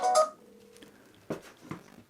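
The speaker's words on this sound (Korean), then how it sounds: "네, 이렇게 전화가 오죠." Incoming-call tone from a Blackview BL9000 rugged phone with Harman Kardon speakers, a short bright tonal burst followed by a low sustained tone and two softer later pulses, close and fairly quiet.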